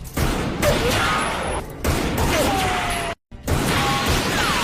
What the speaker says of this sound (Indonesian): Abyss Walker mencoba menembak Toshiro dari kejauhan